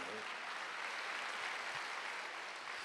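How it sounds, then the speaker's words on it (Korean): Church congregation clapping together during a Wednesday worship service, a steady dense wash of applause filling the room at a moderate level with no voices over it. "박수 하세요."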